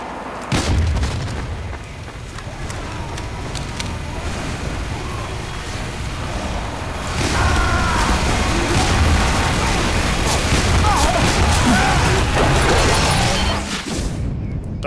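Loose Cannon cannonball blasts in Team Fortress 2, booming over dense game chaos and continuous battle noise, with a louder burst of explosions partway through.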